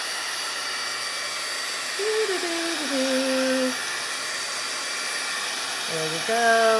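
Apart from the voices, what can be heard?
small handheld heat dryer drying watercolor painting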